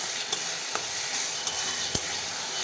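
Onion paste and ground cumin frying and being stirred in a pan while preparing a chicken dish, a steady close sizzle with a few sharp scrapes and taps of the spoon against the pan.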